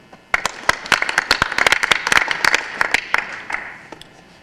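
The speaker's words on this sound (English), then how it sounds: "let's have a big round of applause for the Westfield High School cross-country team" A crowd claps for a high school cross-country team at a school board meeting, with sharp, scattered hand claps swelling into steady applause, then tapering off near the end.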